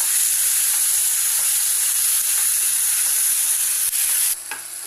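Tomato sizzles and hisses steadily in a hot oiled pan for a Mangalorean egg roast, a loud, dense frying crackle that runs on unbroken and drops off slightly at the end.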